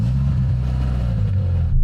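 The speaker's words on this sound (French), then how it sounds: "Petit son de moteur, là." A first-generation Renault Clio RS engine idles with a steady, close, loud low rumble, holding even throughout before cutting off abruptly at the very end.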